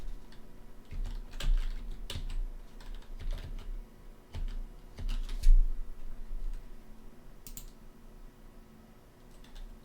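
Typing a password on a computer keyboard while logging in to an Azure lab machine: steady, close bursts of soft key clicks with uneven rhythm and short pauses, no speech.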